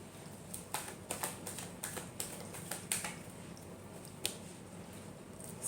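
Tarot cards shuffled by hand, a run of soft, crisp riffling flicks in quick bursts, then sparser single snaps, close and fairly quiet with no talking.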